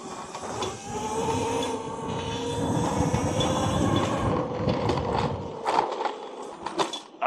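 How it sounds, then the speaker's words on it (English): A loose battery rattles inside a custom electric pit bike ridden on a dirt trail, a steady clattering rumble that runs almost the whole time, with sharper knocks near the end. "I think that's probably my battery rattling around"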